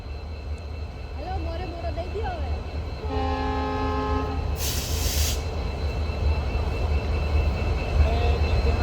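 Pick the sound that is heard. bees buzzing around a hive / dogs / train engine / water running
train engine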